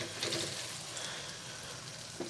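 Masala with lobia (black-eyed beans) cooking in a pan, a steady low sizzle and bubbling with a couple of brief stirring scrapes, close and moderately quiet with no talk.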